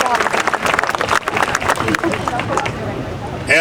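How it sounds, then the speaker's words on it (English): A crowd claps and cheers for the champ's fans at Larry Holmes's statue dedication ceremony, applause and hubbub running under an announcer's amplified voice. "a big round of applause to all of the champ's great legion"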